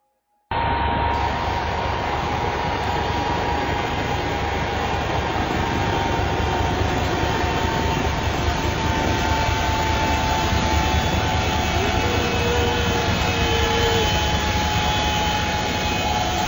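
A jet airliner's engines run steadily before takeoff, a loud, continuous roar with a faint whine that holds unchanged throughout, with no voices.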